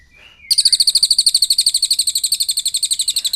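A loud, close pied fantail song: a rapid, even series of bright repeated whistled notes that starts abruptly and continues without pause.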